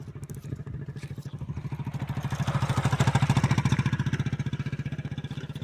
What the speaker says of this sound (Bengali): আবার সাইডাও বাইক আইতেছে